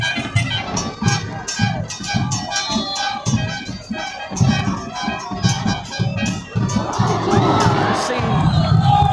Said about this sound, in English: The crowd here were not happy at all.